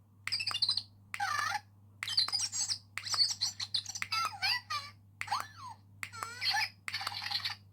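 A Zhu Zhu Pets Num Nums toy's head button sets off a string of high electronic chirps, tweets and squeaky giggle-like bursts in quick clusters, faint and close over a low background hum.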